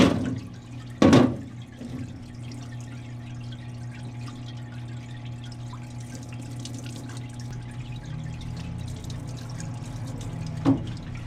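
Honda Odyssey rear brake parts plunge into cleaning liquid with a brief close splash, then quiet dripping and a faint second slosh near the end.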